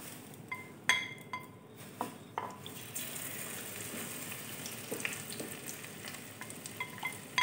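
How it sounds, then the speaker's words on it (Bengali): Okra snacks frying in hot oil, a steady soft sizzle running throughout, with a few sharp clinks and scrapes of a utensil against the pan near the start and scattered lighter taps later. "বাকি যেগুলো আছে এগুলো এবার সেগুলোও ভেজে নেব"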